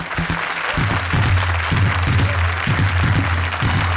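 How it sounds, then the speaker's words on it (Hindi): A studio audience on the television game show Kaante Ki Takkar gives loud, continuous applause, with a deep rhythmic thumping pulsing underneath throughout. "जोरदार तालियां"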